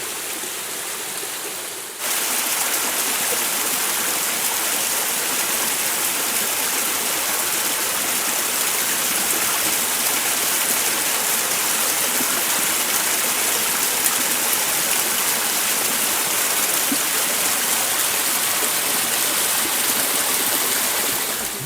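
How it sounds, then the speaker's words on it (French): Near and loud, a small waterfall pours where a stream has carved the rock on a hike in the Monts d'Orb, Escandorgue. A steady rushing roar swells after the first two seconds and holds constant, with no voices. "Voilà une belle cascatelle sculptée dans la roche par le ruisseau."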